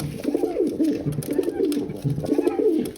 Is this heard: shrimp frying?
no